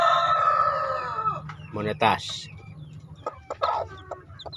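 Hens cluck repeatedly in a simple breeding cage holding crossbred chickens with their chicks. The short, clustered clucks come close and fairly loud, mixed with someone talking over them.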